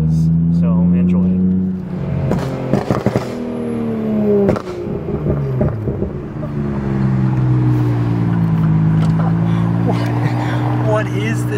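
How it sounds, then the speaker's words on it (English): A Midnight Purple V-Spec Nissan Skyline GT-R R33 fitted with a Tomei titanium exhaust drives hard, its loud engine note climbing and dropping through repeated rev sweeps and gear changes, heard close from the rear of the car. "I'm going to give you guys a symphony of GTR noises."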